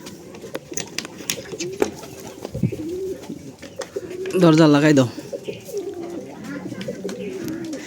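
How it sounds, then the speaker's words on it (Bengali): Pigeons cooing at a small farm of local pigeons, throaty warbling coos rising clearly midway over a bed of fainter cooing and fluttering, with a person speaking briefly nearby. "এই যে দেখেন কতগুলো কবুতর এখানে কয় জোড়া কবুতর আছে"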